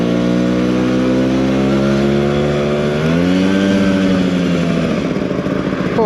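Vespa PX125 scooter engine on a test ride, a close, loud buzzing two-stroke drone whose pitch climbs as it accelerates, dips with a gear change, then rises again, with wind noise underneath.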